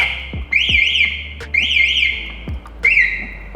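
Remote-controlled alarm on a Honda Streetcub motorcycle, close and loud: three rapid warbling electronic siren bursts, each cut by sharp clicks, with short gaps between them.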